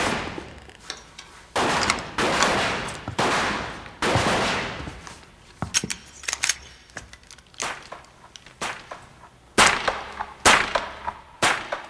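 Gunshots: sharp, loud cracks ring out one after another at irregular intervals, some in quick bursts, each decaying briefly before the next.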